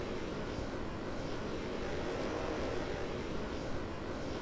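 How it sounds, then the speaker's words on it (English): Rocket engines roar in Kerbal Space Program, the sound glitched so it plays doubled, a thick continuous rumbling drone at steady loudness with no breaks. "I feel like the engines are doubling up."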